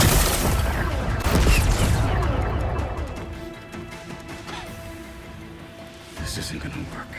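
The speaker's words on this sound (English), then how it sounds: "It's exploding." An explosion in the video game Horizon Forbidden West starts with a heavy, loud crashing blast and rumbling debris. It thins into a quieter tonal hum and then flares up again briefly near the end.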